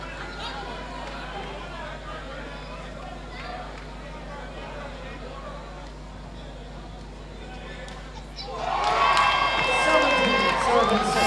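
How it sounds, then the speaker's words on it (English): Spectators at a road tennis championship semi-final murmur steadily, then burst into loud shouting and cheering toward the end, with children's voices rising in the crowd. "as you can hear the crowd, they're going wild for this action"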